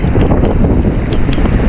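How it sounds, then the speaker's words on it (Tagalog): Strong wind buffets the microphone on a boat at sea, a loud continuous roaring rush with low rumble and faint splashy bursts, no voices. "Lakas ng hangin."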